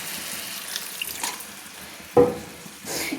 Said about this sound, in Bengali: যাতে মশলাটা পুড়ে না যায়, তার জন্য একটু জল আমি অ্যাড করে দিলাম